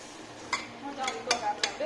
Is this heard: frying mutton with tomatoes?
yes